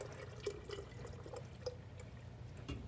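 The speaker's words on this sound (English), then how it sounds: "we're going to pour our syrup right into our jar" Homemade pancake syrup pouring from a pot into a jar, a faint, steady liquid trickle with a few soft drips and splashes, close by and with no talk.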